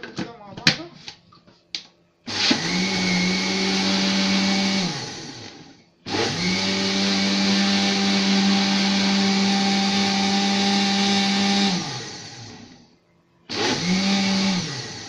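An electric blender whirs loudly in three long bursts, spinning up and cutting off between them, as it mixes cake batter with cocoa for a strawberry cake, with a few light clicks and taps beforehand.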